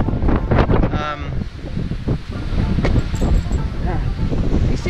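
Strong gusts buffet the microphone on a mountain trail at Grandfather Mountain, making a loud, rumbling roar that swells and fades. Voices speak over the wind.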